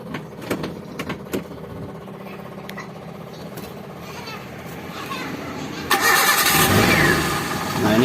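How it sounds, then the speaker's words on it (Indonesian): A car engine cranks and catches, settling into a steady idle, during a radiator flush to clear dirty coolant and sediment; starts after a stretch of quieter workshop noise, loud and close. "Sekarang coba kita nyalakan mesinnya."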